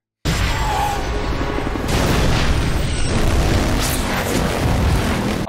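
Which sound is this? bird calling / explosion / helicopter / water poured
explosion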